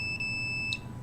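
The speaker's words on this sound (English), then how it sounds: "The alarm is over limit." A microwave detector's over-limit alarm gives short high electronic beeps over a steady low hum, with one brighter beep standing out near the end.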